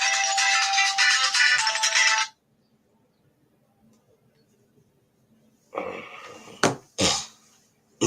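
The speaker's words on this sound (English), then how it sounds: "I had left my phone on." A mobile phone ringtone plays loud and close for about two seconds and then cuts off abruptly. Silence follows, then a few faint clunks and rustles.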